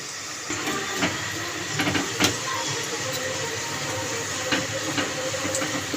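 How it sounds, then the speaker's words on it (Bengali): Egg pakoras deep frying in hot oil with a steady, close sizzling hiss throughout, broken by a few sharp crackles and pops. "এপিট ওপিট করে লাল লাল করে ভেজে নেব"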